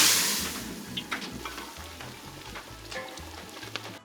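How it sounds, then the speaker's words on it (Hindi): Spices for a tadka sizzle and crackle in hot oil, with rhythmic scraping and stirring in a pan, loud at first then settling, during Kashmiri wazwan cooking for a wedding. "हाथ में तड़का लगा के थोड़ा और भुना जा रहा है।"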